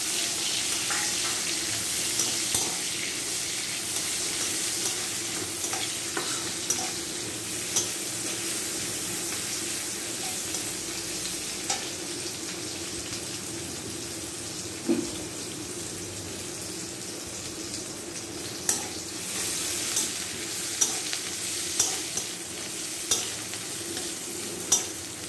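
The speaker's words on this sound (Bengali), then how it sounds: "পেঁয়াজ, লঙ্কা, ভেজে নেব পেঁয়াজ লঙ্কাকে।" Onions and green chillies frying in a pan, a steady broad sizzle running throughout with occasional soft clicks and scrapes of stirring, close and moderately quiet, with no talk.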